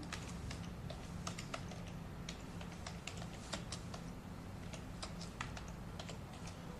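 Steady typing on a computer keyboard while entering a heading in Structured FrameMaker software, with quick irregular key clicks running continuously at close range over a faint background hum.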